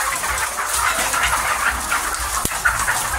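Chickens cluck softly in a steady murmur at a small egg farm in Cebu, Philippines, with a sharp knock partway through and faint rustling in the background.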